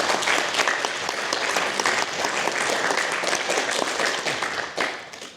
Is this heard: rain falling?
no